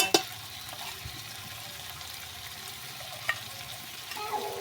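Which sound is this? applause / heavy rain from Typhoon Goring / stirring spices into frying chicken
stirring spices into frying chicken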